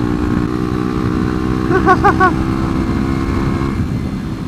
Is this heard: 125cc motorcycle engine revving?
yes